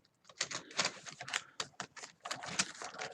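Keys on a partly disassembled gaming keyboard clicking in quick irregular bursts, close and crisp, a rapid typing-like clatter with short pauses between groups of presses.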